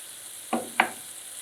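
Cumin with garlic and ginger powder sizzles in a karahi for a dhaba-style mutton keema, with two short stirring scrapes rising over a soft, steady frying hiss.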